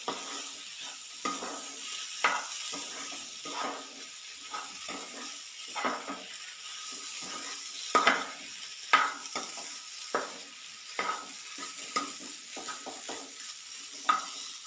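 A spoon stirs and mixes potato filling for aloo paratha in a frying pan, with scraping strokes in an uneven rhythm over a low, constant sizzle. No one speaks.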